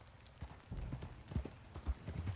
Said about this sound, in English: Okay, get on your horse. Follow me.